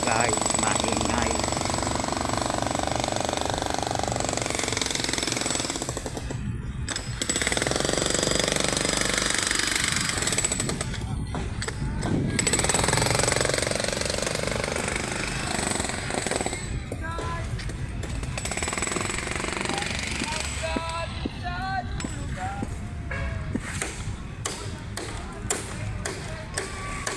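Construction work rumbles through Luneta Park in Manila, with steady jackhammer-like pounding and thuds under a dense outdoor din, while voices talk nearby throughout.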